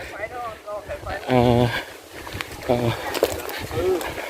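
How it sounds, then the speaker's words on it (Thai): Strong wind blowing across open country during a cold, rainy trail run, a steady broadband rush with gusty microphone buffeting throughout, while someone talks over it. "ค่อนข้างลมแรงมากครับวันนี้"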